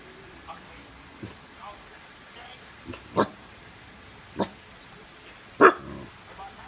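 A dog gives a few short, scattered barks at moderate distance, spaced irregularly over several seconds against a quiet room background, with the loudest bark near the end.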